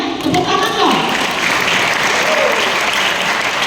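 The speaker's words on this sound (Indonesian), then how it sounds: "Ya, tepuk tangan dong." Audience of children at a juvenile detention centre event in Tangerang breaking into loud, sustained applause, dense clapping close by with a few voices calling out over it.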